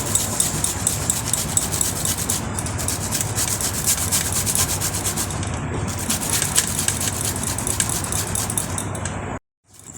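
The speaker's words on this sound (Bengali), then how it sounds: "আমি অল্প অল্প করে পেঁয়াজ আদা রসুন ঘষে নিচ্ছি" Onion, ginger and garlic are rubbed against a grater in a continuous, close, rasping scrape with a quick repetitive rhythm, stopping briefly near the end.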